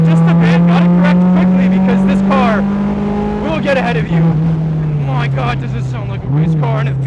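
A Mazda Miata race car's engine drones loud and close on a track, holding a steady pitch that sags slightly as the car moves, while someone talks over it throughout.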